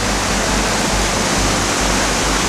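Misery Creek on a mountainside, rushing loudly over rocks in a dense, continuous roar, close and steady throughout with no voices.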